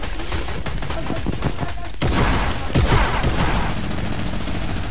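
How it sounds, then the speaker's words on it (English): Combat shotgun blasts in Fortnite hit in quick succession, sharp and loud. Rapid gunfire follows, with brief speech. "They just shotgunned me with a combat shotgun"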